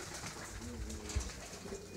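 Domestic pigeons coo softly in a pigeon loft, with low, faint murmuring calls in the background and one brief closer sound.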